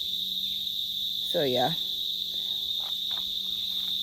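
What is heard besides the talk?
crickets chirping outdoors during a nature jog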